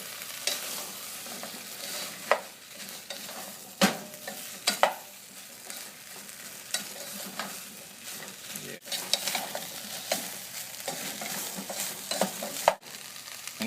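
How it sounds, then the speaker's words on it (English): Potato and cauliflower pieces are turned in a spiced pan, soft scraping stirs and occasional clacks over a faint sizzle, close and fairly quiet, with no voices. "just take the lid like this and just rotate the vegetables"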